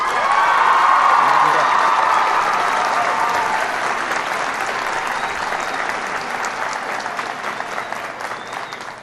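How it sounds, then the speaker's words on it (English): An audience applauds and cheers for Rashawn Johnson as he is introduced to speak, a dense, steady wash of clapping with a few whoops, loudest at the start and easing slightly over nine seconds. "Please give a warm round of applause for Rashawn Johnson."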